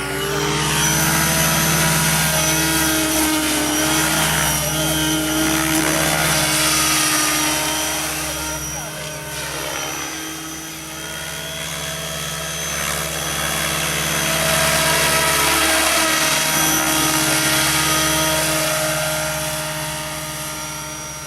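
A helicopter descends toward a landing at an outdoor show, with a loud, continuous rotor and turbine roar that swells and eases slightly across the whole stretch. No voices can be made out.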